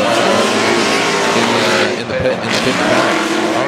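A Formula Drift car, number 818, drifts at a St. Louis event, its engine screaming loud and continuous with tire squeal, a brief dip midway, while a commentator talks over it.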